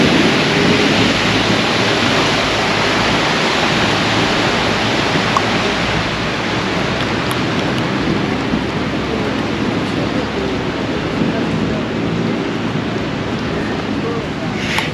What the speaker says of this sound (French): On a juste eu un petit orage.